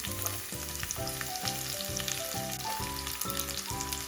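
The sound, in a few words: onions frying in oil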